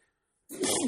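A single sharp sneeze bursts out after a brief silence, close and fairly loud, trailing off with a breathy exhale.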